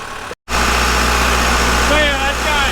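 A loud, steady engine drones close by, running high with a rising whine, briefly cut to silence near the start before resuming.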